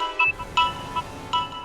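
Short repeating phone ringtone for an incoming call, bright electronic beeps pulsing in a quick pattern at moderate volume with no talking.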